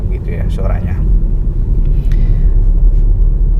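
The three-cylinder 1.5-litre engine of a BMW 218i, rated at 136 horsepower, gives a low, steady rumble heard from inside the cabin, continuous and fairly loud, with someone talking over it.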